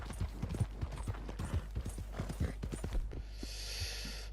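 Horse hooves clip-clop in Red Dead Redemption 2, a steady run of close, light thuds with some mechanical clatter, which gives way in the final second to a brighter, hissing ambience.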